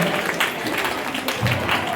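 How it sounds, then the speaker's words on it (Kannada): An audience at an anniversary celebration claps for a couple, a short burst of moderate, uneven clapping with voices mixed in. "ಜೋರಾದ ಚಪ್ಪಾಳೆ ಬರಬೇಕು ದಂಪತಿಗಳಿಗೆ"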